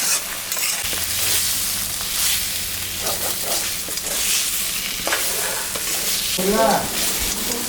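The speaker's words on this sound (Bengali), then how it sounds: "মশলাটা কষানো হয়ে গেছে" A ground paste of ginger, garlic and onion with plenty of chilli fries loudly in a pan for a fish-head and potato curry, with dense sizzling and repeated spatula scrapes and stirs close by.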